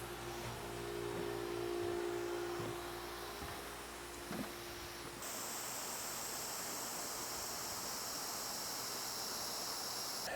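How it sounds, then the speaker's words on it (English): A big lawn sprinkler fed by a pump throws water across a yard, giving a steady broadband hiss that shifts to a brighter, sharper spray partway through, with no voices. "this is the original big sprinkler thing that I bought"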